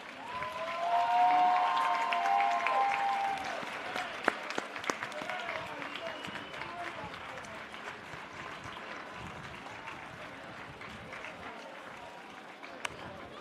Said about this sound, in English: with a round of applause recognize your family members and friends who have helped you along the way